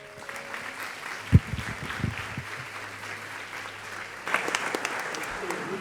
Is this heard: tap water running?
no